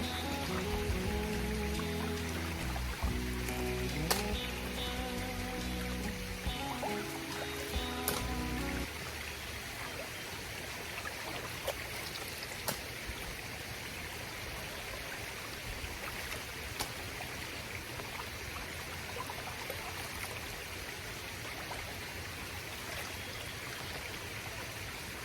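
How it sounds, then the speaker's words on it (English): A pond filter runs with a soft, steady trickle of water, a quiet continuous wash heard close, joined early on by a louder tonal background sound that fades out after several seconds. "Just let the filter run, keep stirring it up."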